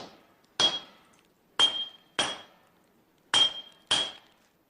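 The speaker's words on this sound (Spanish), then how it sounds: "el calor de la fragua y el constante martilleo aplastan los fragmentos hasta convertirlos en las piezas que integrarán la nueva espada" A hammer strikes steel fragments being forged into a katana blade, with five sharp, ringing metallic blows at uneven intervals, each trailing off into a brief clang.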